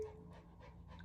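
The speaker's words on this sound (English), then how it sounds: "sorry if you guys hear panting in the background." A dog pants quietly in the background indoors, a steady rhythm of soft, breathy puffs, faint and close, with no talk.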